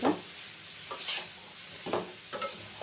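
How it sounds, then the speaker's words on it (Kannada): Chopped bottle gourd is stirred in a pan in four quick scraping sweeps of a spatula over a faint sizzle. The stirring is close and moderately loud, with short quiet gaps between strokes and no talking. "ಸೋರೆಕಾಯಿ ತೊಗೊಂಡು ಹಚ್ಚಿಟ್ಕೊಂಡಿರೋದು ನೀಟಾಗಿ ಮಿಕ್ಸ್ ಮಾಡ್ಕೊಳ್ಳಿ"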